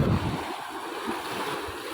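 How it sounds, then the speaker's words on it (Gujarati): Cool wind blowing in an open outdoor spot near a forest shrine, buffeting the microphone as a steady, rushing roar with a stronger gust at the start and no speech. "ઠંડો મસ્તીનો પવન આવે"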